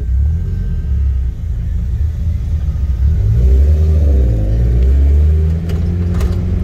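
A car engine rumbles at a low idle and then revs up in a couple of rising surges, loud and close, with no talking.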